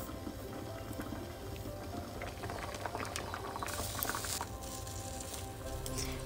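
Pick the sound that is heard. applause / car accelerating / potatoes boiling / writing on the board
potatoes boiling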